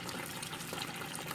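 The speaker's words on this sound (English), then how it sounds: "yeah, water's coming out now. Nasty, dirty water." Dirty water gushes steadily out of a washing machine that won't drain properly during its spin cycle, a continuous rushing, splashing flow with no talking.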